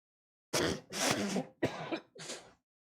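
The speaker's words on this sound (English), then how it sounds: "let me just blow my nose really quick" A person blows their nose in four forceful, honking bursts, close to the microphone and loud, with brief pauses between them and no talking.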